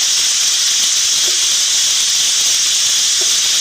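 Ginger and garlic hit a hot pan for a turnip curry, setting off a loud, continuous close-up sizzle that holds steady throughout, with no talking.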